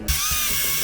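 A cordless drill whirs up and runs steadily at high speed for a moment, close and fairly loud.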